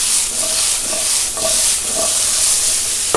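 Chopped fresh tomatoes for Japanese curry sauté in a pan, producing a loud, continuous sizzle with soft periodic stirring scrapes at a steady rhythm, close up and with no talking.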